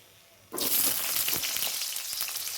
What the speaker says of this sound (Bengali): তেল গরম হয়ে গেছে, এবার আমি কেটে রাখা আলুগুলোকে দিয়ে দিচ্ছি।